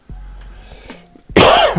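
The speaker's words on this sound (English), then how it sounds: "Didn't mean to cough in your ear." A single close, loud cough bursts out after a stretch of quiet room noise, harsh and breathy, lasting about half a second.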